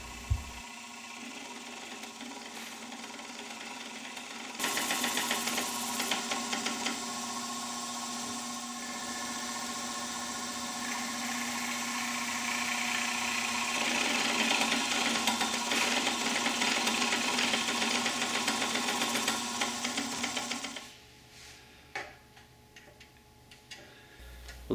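A drill bores into the wooden back of a child's rocking chair, a steady high whir running continuously for about sixteen seconds before stopping, close and fairly loud.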